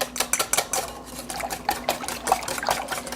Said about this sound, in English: so let me just whisk that together real quick